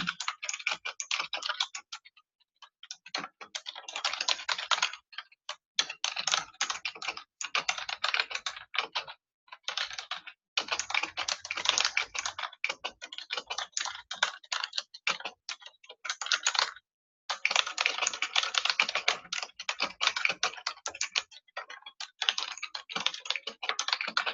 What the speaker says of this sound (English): sorry for the noisy keyboard, Jenny and Dave.